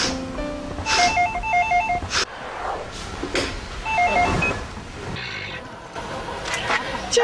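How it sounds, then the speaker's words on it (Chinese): A telephone rings with a repeated electronic trilling bell in two bursts, the second shorter, with other household noise between the rings. "叫小胖的爸爸听电话哈"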